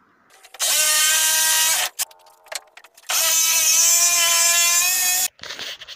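Power saw cutting old pallet wood with a worn, dull blade while building stairs: two long loud harsh whining cuts with a brief sputter between them, close up with no talking.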